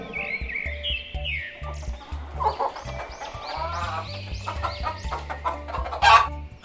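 A hen clucks in short, choppy bursts, with a brief crowing-like squawk near the end, all layered over an upbeat children's alphabet song in a cartoon setting.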